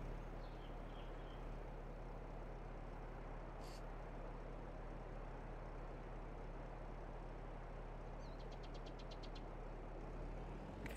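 A tractor engine in Farming Simulator 22 idles as a steady, droning low rumble with a constant hum, plus a brief hiss and a faint rapid ticking near the end; no talk.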